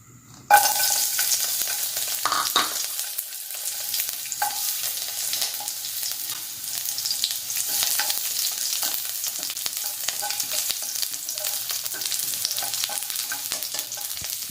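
Garlic sizzling in hot oil in a pan for chop suey, a steady crackling hiss that starts abruptly and continues, with occasional scrapes and clicks of stirring.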